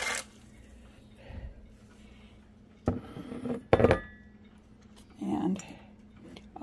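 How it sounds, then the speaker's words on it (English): White northern beans tumble into a cooking pot in a few clattering bursts, close and fairly loud, with clinks of metal and utensils between quieter gaps. "So here's the beans being added in."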